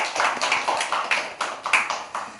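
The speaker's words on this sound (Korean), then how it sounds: "우리 박수 한번 다시." A church congregation claps in quick, uneven bursts that rise and fall, the applause close and lively throughout, with no voices over it.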